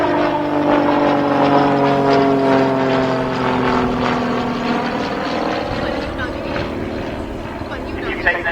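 An RAF Tutor propeller plane flying an aerobatic airshow display at Cosford makes a steady, loud droning engine hum that slowly shifts pitch as it passes, with a commentator talking over it.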